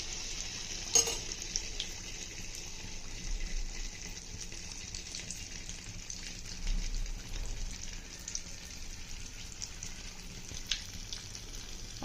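Spoonfuls of neyyappa batter fry in hot oil with a soft, constant bubbling sizzle, faint and close, broken by a few light clinks of a spoon.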